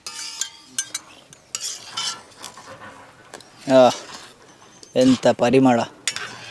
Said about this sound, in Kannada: ಈಗ ಅಕ್ಕಿ ಹುರಿತಾ ಇದ್ದೇನೆ ನೋಡಿ